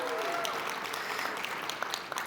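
Conference audience at the PyCon US 2023 closing ceremony clapping in a sustained burst of applause, with scattered voices and shouts mixed through the crowd noise.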